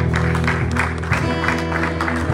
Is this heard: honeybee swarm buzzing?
no